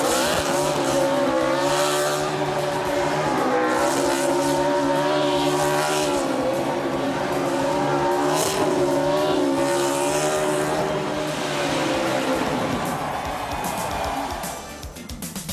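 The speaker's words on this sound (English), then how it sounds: "And what a burnout from Tyler Reddick." Stop-motion NASCAR Cup race car doing a victory burnout at Darlington, with a continuous loud engine roar and tire squeal filling the clip, fading slightly near the end; no speech.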